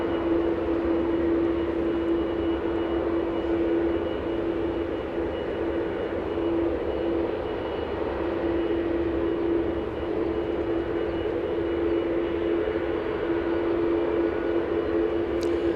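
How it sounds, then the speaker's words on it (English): A Boeing 777 airliner taxiing at Los Angeles International Airport gives off a steady, unbroken engine drone with a faint constant whine for the whole stretch, moderately loud and with no talking. "Taxi lights have been activated on the 777."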